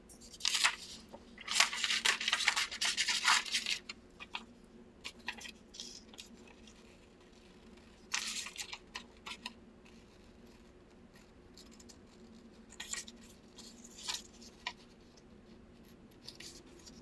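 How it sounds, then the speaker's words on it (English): Scissors snip through a stamped craft foam shape in bursts of close, crisp cutting, pausing between runs of short clipping strokes. "Okay, and then we're going to cut this out."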